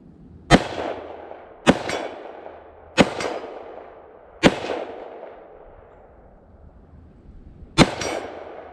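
Five loud, sharp reports from a Palmetto State Armory AK-E rifle at an outdoor range. Each shot rings out and decays over a long tail. The first four come at steady intervals of about a second, then a longer pause before the last.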